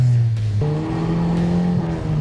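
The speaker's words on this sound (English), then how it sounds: "It's just spinning the wheels" A VW Scirocco TSI GT with a big turbo, about 350 bhp, revs hard as tires spin and squeal on pavement, a loud, close screech with rising pitch.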